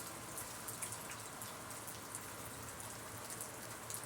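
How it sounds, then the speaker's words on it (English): Steady rain falling during a thunderstorm, a dense even patter of raindrops on surfaces that holds at one level throughout, fairly close, with no voices over it. "It's raining here."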